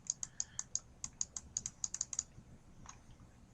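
Quick, light keystrokes on a computer keyboard while writing in Word, a run of about fifteen close taps in an uneven rhythm that pauses briefly, then one or two stray presses in a quiet room.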